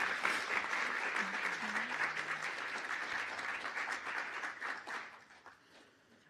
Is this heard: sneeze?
no